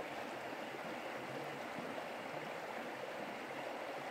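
Middle Fork John Day River in northeastern Oregon flowing past, a steady, soft broadband rush of running water with no breaks, faint and even, heard alone without voices.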